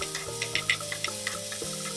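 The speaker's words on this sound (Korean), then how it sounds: "냄비를 기울여 마늘을 튀기듯 구워주시면 타지 않게 잘 익힐 수 있답니다" Minced garlic and onion frying in a tilted pot, a steady close sizzle with light crackles and soft stirring scrapes, alone without voices.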